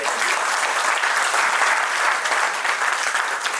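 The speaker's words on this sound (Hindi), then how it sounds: "जोरदार ताली बजाइए" An audience breaks into loud, sustained applause at a bird hospital event in Jaipur, a continuous dense wash of many hands clapping together without a break.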